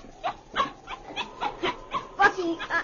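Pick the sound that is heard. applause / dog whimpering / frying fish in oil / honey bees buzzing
dog whimpering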